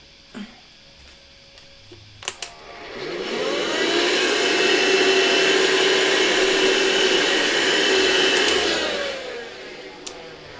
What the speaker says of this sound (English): And I just need to vacuum here.